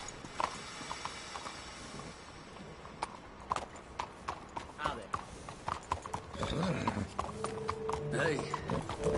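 A horse's hooves clop steadily on the ground in Red Dead Redemption 2, close and rhythmic, with a whinny and short bursts of speech between the beats.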